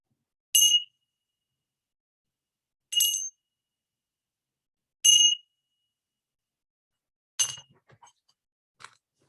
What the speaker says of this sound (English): So I'll ring the bell to officially start it.